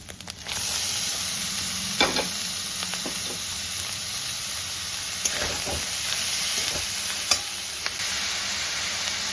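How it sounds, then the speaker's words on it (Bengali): Boiled banana flower with grated coconut frying in a pan, a close, steady sizzling hiss broken by occasional scraping clicks of a spatula stirring, with no voices. "এবার একটু নেড়ে আমি এর মধ্যে দিয়ে দেবো মোচা, সিদ্ধ করে রাখা মোচা।"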